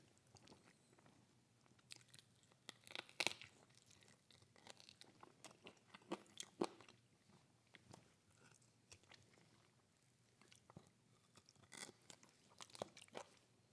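Close, quiet crunching and chewing of crunchy Korean fried chicken wing cartilage, irregular sharp bites and crunches scattered over a faint background with no talking.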